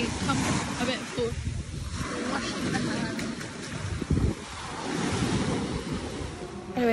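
Sea waves lap and wash steadily at the shoreline of a Greek resort beach while hands are rinsed in the water, with wind noise on the microphone and a brief splash near the end.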